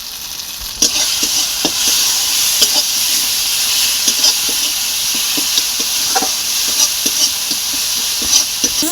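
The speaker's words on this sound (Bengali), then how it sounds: "ভালো করে ভাজা হয়ে গেছে, মশলা থেকে তেল ছেড়ে দিয়েছে।" Spices with turmeric, salt, chilli powder and a little sugar frying in oil in a pan, a constant close sizzle punctuated by regular knocks and scrapes of a stirring spoon, with no voices.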